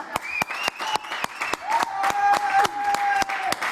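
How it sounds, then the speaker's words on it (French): A studio audience at a French television show claps loudly in a steady, sustained burst of applause, with a tonal melody running underneath. "Ah, Khadija, on applaudit très fort."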